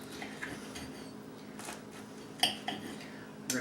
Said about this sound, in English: we're going to go ahead and take our fork and knife. We're going to cut down the center of it